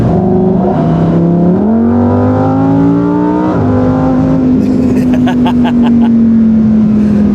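A Lamborghini engine revs hard and climbs through the gears close and very loud, the pitch rising then settling into a steady high drone, with crackles toward the end.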